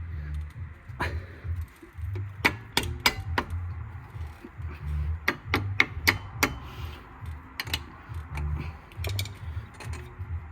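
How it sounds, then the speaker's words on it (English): Screwdriver end pushing a track rod part into place on a Ford Focus mk2, giving a series of sharp metallic clicks and taps, some in quick clusters, over a low steady hum. "I just need to push it all the way with the other end of the screwdriver"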